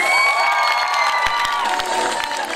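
A crowd at a 2012 event in Oral cheers and claps, a dense wash of applause and whoops heard up close, with a few sharp claps standing out.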